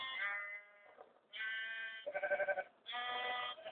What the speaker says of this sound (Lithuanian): Va, žiūrėk, avis.